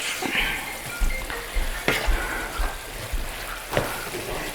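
Finely chopped tomatoes simmering with shrimp in a pan for a tindora bhaji, a steady sizzle broken by several sharp scrapes and knocks of a utensil stirring against the pan.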